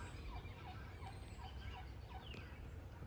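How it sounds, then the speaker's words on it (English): Distant turkeys gobbling and guinea fowl calling from up a hill beside a creek in Tulsa, faint repeated calls over a steady outdoor background hum. "sounds like somebody's got some guineas and turkeys up the hill there."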